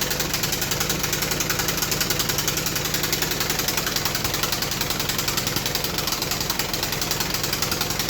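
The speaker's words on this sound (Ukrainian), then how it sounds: "тому ми встановили мотора і підключили ременний політ" Motor of a homemade belt-driven go-kart running steadily at idle, a continuous close mechanical drone with a fast even knocking pulse and constant vibration, no voices.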